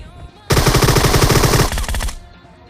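Rapid automatic bursts from a Groza assault rifle in the mobile battle-royale game BGMI, loud and close, a sustained stream of shots lasting over a second and followed by a few trailing reports.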